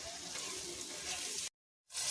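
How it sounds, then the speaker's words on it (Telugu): Crushed garlic going into a curry of mango pieces and egg sizzling in a pan, a steady close frying hiss that cuts out abruptly for a moment before returning. "అలాగే వెల్లుల్లిపాయలు కూడా దంచుకుని వేసుకుంటున్నానండి."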